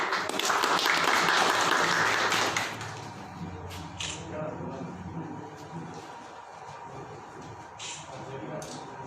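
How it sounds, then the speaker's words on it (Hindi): A crowd claps at a John Deere 5210 GearPro tractor launch event, a loud burst of applause for about two and a half seconds that fades into scattered claps, with a voice talking over the tail. "जोरदार तालियां।"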